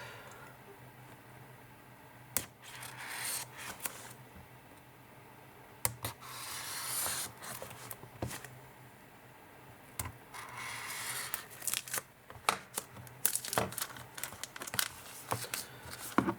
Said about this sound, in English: It's still in its factory foil. So first of all, we'll need to remove that foil